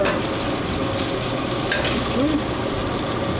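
Spätzle flavored with fresh tarragon sizzles steadily in a pan with butter and vegetable stock, a close, continuous frying hiss with faint stirring scrapes and no talk over it.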